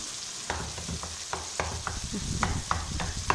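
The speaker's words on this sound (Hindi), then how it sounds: "इसको हम चम्मच की मदद से अच्छी तरह हम मिक्स कर लेंगे" Mashed eggplant for baingan bharta being mixed with a spoon in a hot pan, repeated spoon taps and scrapes against the pan over a steady low sizzle.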